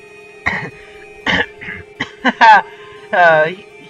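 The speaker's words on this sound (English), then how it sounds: "You clear your throat." A character in the Hiveswap Friendsim video game clears the throat in several short, rough, voiced bursts, close and fairly loud over a steady background tone.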